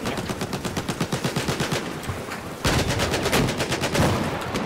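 Rapid automatic gunfire in Battlefield 4 on the Railway conquest map, bursts of rhythmic shots in quick succession, with a louder, denser stretch of firing in the second half.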